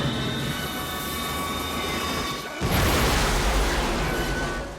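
A staged train crash from the film The Fugitive: a steady heavy rumbling roar that suddenly swells into a louder, harsher crashing wash about halfway through and stays loud to the end, with no voices.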